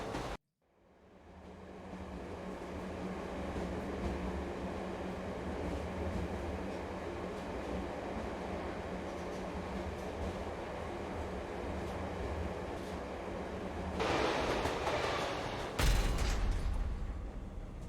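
A train rolls along rails in the video game Let It Die, a steady low rumble that runs unbroken and swells louder and rougher near the end.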